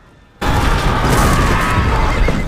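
Horses neighing amid a chaotic battle scene from the Prince Caspian film, starting abruptly, loud and dense with rumbling booms and a continuous roar throughout.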